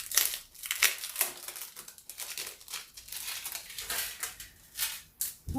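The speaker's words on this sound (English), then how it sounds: "I'll take them out of the packaging." Crisp plastic packaging crinkles and crackles in repeated close bursts as small star-and-moon earrings are unwrapped by hand, with no talking.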